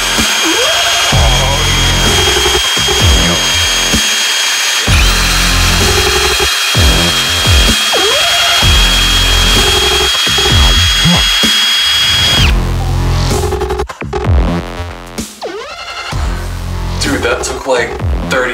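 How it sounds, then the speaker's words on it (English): A power drill spins a Hario Skerton hand grinder as it grinds coffee beans at a medium setting. The whine is loud, steady and close, with a rattling grind and voices over it, before it stops abruptly near the end. "That took like 30 seconds or less to grind 15 grams of coffee right there."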